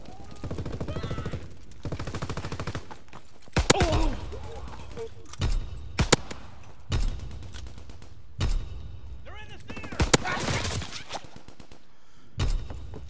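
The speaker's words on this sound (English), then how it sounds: "them pistol shots were accurate as fuck, though" Pistol shots ring out in Call of Duty WWII as sharp, isolated bangs spaced irregularly across the stretch, mixed with game sounds and voices talking throughout.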